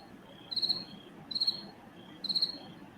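Three evenly spaced cricket chirps, each a quick high trill, standing out against faint ambient noise.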